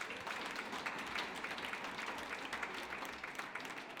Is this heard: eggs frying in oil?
no